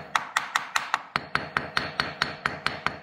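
Steady tapping on a concrete crack repair with sand, about fifteen sharp evenly spaced knocks, close and clear, each with a short ringing tail, no talk.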